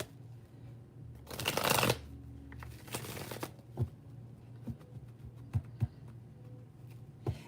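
Tarot cards shuffled by hand in bursts: a long loud riffle, a second shorter riffle, then scattered soft taps and flicks as the deck is handled, close and with no talking.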